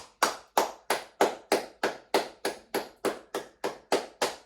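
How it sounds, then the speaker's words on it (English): Steady, evenly spaced hand claps, about a dozen sharp claps in even rhythm, close and clear with no talking, as a round of applause closes an easy full-body exercise session for older adults. "I want you to give yourself another huge round of applause."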